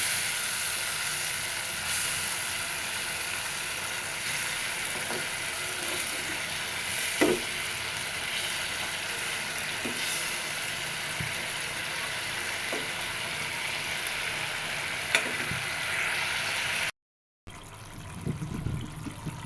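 Tilapia fish bhuna fries in its released oil while being stirred, a steady moderate sizzle with occasional spatula scrapes and taps against the pan, then a brief silence before noise resumes.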